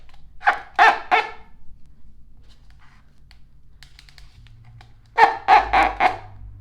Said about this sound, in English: here is the sound of a crazy chicken